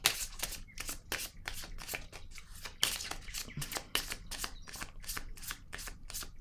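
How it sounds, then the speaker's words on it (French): Tarot cards are handled on a table, giving a steady run of crisp, close flicks and slaps repeating at a brisk, even rhythm. "Je vais déposer une autre carte ici."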